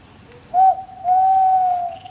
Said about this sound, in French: Un hibou.